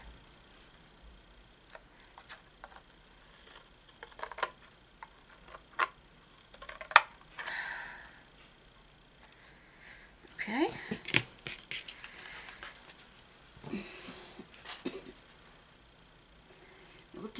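Scissors trimming the corners of diorama paper give sparse, quiet snips and clicks spread across the clip, with a few louder cuts clustered later on.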